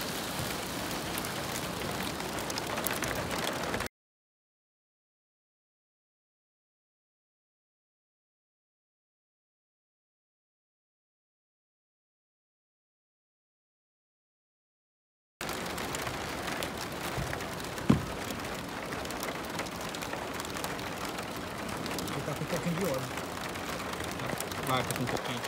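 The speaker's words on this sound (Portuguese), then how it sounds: "a chuva veio na hora certa" Rain pours on a metal roof in a steady, dense hiss. It runs for a few seconds, cuts to silence, then resumes with a few sharper drips and knocks.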